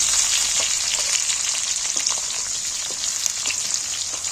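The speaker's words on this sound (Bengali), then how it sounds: "আলুগুলোকে এবার আমি ভালো করে ভেজে নেব" Potatoes fry in oil left over from frying fish, a loud, steady, dense sizzle that holds without a break, close up and with no voices.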